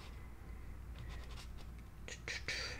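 Scrapbook paper printed with a design is cut for a Stamperia Amazonia album, with a few short, crisp snipping bursts near the end over a quiet room background.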